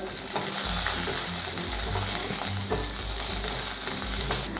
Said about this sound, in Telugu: పల్లీలు మంచిగా వేగిన తర్వాత పచ్చిమిర్చి వేసుకోవాలి